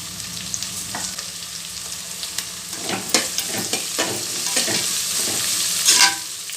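Onions fry with salt in oil for okra rice, a continuous close sizzle with repeated scraping and tapping from a stirring spoon that gets busier toward the end.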